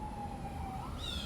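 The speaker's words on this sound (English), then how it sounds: "I don't know if you guys hear the sirens" Emergency vehicle sirens wail outdoors, a faint, distant rising and falling tone that shifts pitch partway through, heard alone with no talking.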